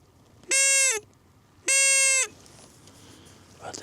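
A hunting predator call imitates a hare's distress cry: two long, loud, drawn-out squealing wails close by, separated by a short pause, then quiet outdoor ambience.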